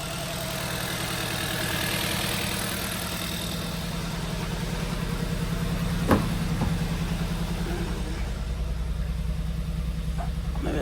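A car engine with a head gasket problem idles steadily in a close, even drone, with a single faint click partway through and no voices.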